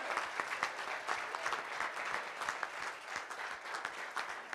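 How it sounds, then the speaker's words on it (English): A crowd applauds graduating high school seniors, with steady, moderately faint clapping throughout and individual sharp claps standing out. "give them a round of applause"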